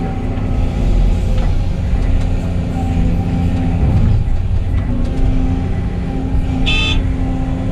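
Heavy truck loaded with 30 yards of thawed mud and dirt, a loud steady diesel engine drone with rumbling and a brief rise in revs, close by and continuous without talk.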